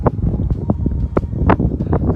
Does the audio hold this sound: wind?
yes